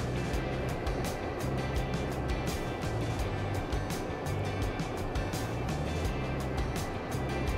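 Blower fan on a Lopi Cape Cod wood stove running on its high setting, giving a steady close whooshing hum with a low motor drone underneath and faint rhythmic ticking, unbroken throughout.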